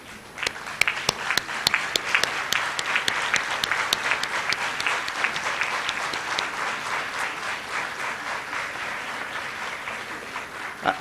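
Graduates at a university convocation stand and applaud, a loud, sustained burst of crowd clapping with sharp individual claps standing out early, then settling into a steady roar that slowly tapers.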